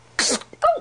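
A single small, high-pitched sneeze, quick and close, followed by a brief breathy catch.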